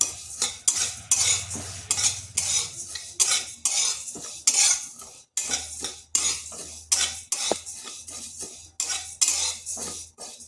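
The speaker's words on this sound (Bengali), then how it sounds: "শুকনো কড়াইয়ের মধ্যে আমি মুগ ডালটা একটু ভেজে নেব। 2 থেকে 3 মিনিট এইভাবে একটু নেড়ে নিচ্ছি" Dry moong dal is roasted in an empty wok, a spatula scraping and stirring in steady rhythmic strokes with the lentils rattling, close and clear with no talking.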